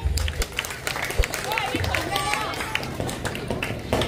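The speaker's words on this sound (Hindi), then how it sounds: "इस बात पे सबने तालियां बजाना चाहिए" Clapping from an audience at a Shiv Sena election campaign speech in Dhule, Maharashtra, a dense patter of hands mixed with crowd babble and voices, fairly steady throughout.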